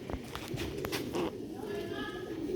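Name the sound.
pigeons cooing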